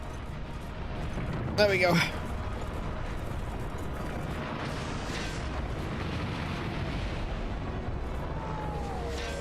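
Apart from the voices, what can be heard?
bomb explosions in Monster Hunter Generations Ultimate video game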